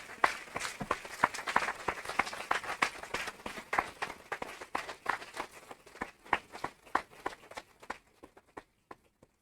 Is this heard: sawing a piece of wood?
no